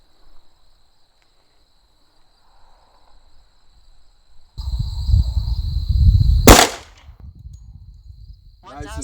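A .45 ACP handgun fires a single loud, sharp shot into a ballistic gel block covered with winter clothing. Quiet background hum and rustling come before it, and a brief ringing decay follows.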